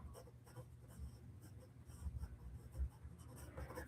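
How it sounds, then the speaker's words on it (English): A soft 2B pencil drawing on paper for a Wolverine portrait, quiet close scratching and scribbling strokes in quick irregular bursts. "Using a 2B pencil, so I don't know if that's a good idea."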